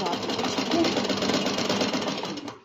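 A sewing machine stitches the bottom of a salwar, running in a fast, steady, close mechanical whir and rattle that slows and stops at the very end.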